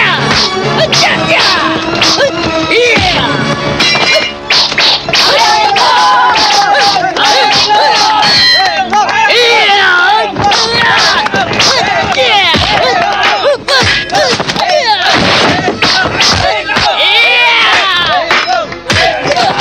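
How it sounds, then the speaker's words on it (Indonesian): A large crowd at a martial tournament arena roars and cheers loudly and continuously, with shouting voices, a dense babble of excited calls and scattered thumps filling the whole stretch without pause. "Seluruh hadirin bersorak-sorak. Tepukan para hadirin yang membahana memekakan telinga."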